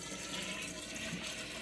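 Steady rushing water pours continuously into a 14-foot sand point well pipe, a soft, even hiss and gurgle with no voices.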